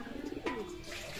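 Siraji pigeons give a short, soft coo amid low background noise, heard close but faint, with a brief rustling burst in the middle.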